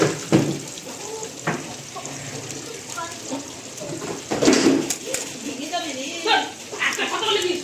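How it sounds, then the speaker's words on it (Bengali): Eggplant slices fry in oil, a low crackling sizzle sitting under frequent nearby talk, with occasional clatter from utensils. "বেগুন সুন্দরী করার জন্যে আরও বেগুন ভাজা হচ্ছে"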